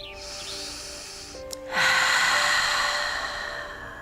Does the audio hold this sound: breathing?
yes